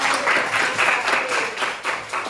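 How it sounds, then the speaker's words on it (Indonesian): A classroom of students claps for a classmate, a brief, loud burst of many hands with faint rhythmic pulses in the patter. "Coba tepuk tangan dulu."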